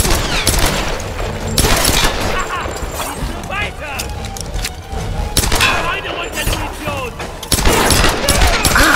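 Gunfire from shooting in Tomb Raider: repeated sharp bursts and booms over steady game noise, with someone talking over the action throughout.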